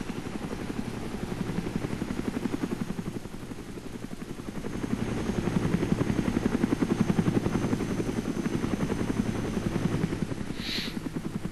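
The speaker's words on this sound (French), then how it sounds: "maintenant l'hélico se met... essaye de me désinguer" A helicopter in the video game DayZ flies overhead with a loud, steady rotor chop that swells louder midway and then holds close, with no talking over it.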